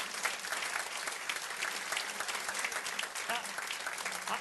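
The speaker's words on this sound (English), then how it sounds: "Give him all a round of applause." Audience applause at a city state-of-the-city address, dense steady clapping from a large crowd, loud and continuous throughout.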